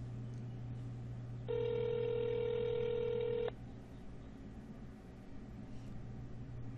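A single steady ringback tone sounds for about two seconds over a low electrical hum, then stops, leaving quiet line noise.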